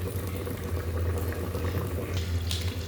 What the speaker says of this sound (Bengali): আমি ঢাকনা দিয়ে এখন দমে রেখে দেবো 20 মিনিট।